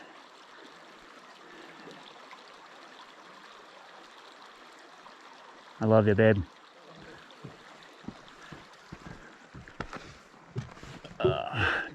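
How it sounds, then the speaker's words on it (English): Creek water flows steadily in the background as hikers cross Hell Roaring Creek in the Sawtooth Wilderness, with a brief loud splash or knock midway and people talking quietly over the rushing stream. "This is Hell Roaring Creek here that we're crossing."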